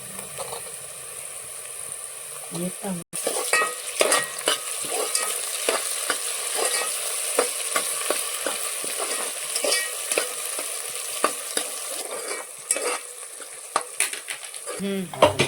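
Onion and tomato fry in a pan for a chicken curry, a continuous close sizzle with frequent scraping and clinking of a spoon against the pan as it is stirred, with no talking.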